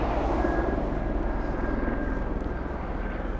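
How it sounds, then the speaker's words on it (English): Steady helicopter engine drone passing overhead, a low rumbling roar with a faint whine on top, fairly loud and unbroken. "Got a helicopter flying around."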